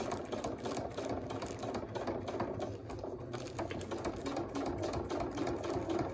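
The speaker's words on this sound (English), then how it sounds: "take your time because you are sewing through four layers" A sewing machine stitches steadily through four layers of fabric for a baby toy, its needle producing a fast, even, continuous mechanical chatter at moderate distance with no talking.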